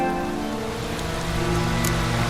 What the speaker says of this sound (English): Proper downpour this is.